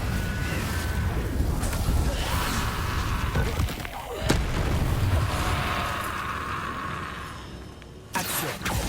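Spell explosions from Confringo and other combat magic in Hogwarts Legacy, dense booms and blasts over a busy rumbling game soundscape, with a sharp whooshing burst near the end.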